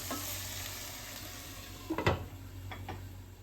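Tomato masala frying in a pan gives a steady sizzle, and a utensil stirs through it with a couple of brief scraping strokes near the middle, close by and with no talking.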